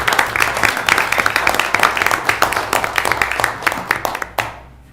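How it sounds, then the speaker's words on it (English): A room of people at a city council meeting applauds Lewiston Adult Education, dense overlapping clapping that stays steady, then thins to a few scattered claps and fades out near the end. "Another huge round of applause for Lewiston Adult Education for everything they do for our city"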